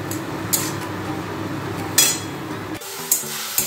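Food frying in a pan with turmeric and salt, with a steady low sizzle under several sharp metal clinks and scrapes of a spatula stirring against the pan. No one speaks.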